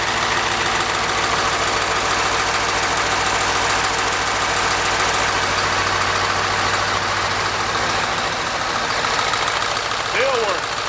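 Ford 7.3 Powerstroke diesel idling after a cold start with glow plugs still working, a loud close rattling knock in steady rhythm throughout, with faint voices under it.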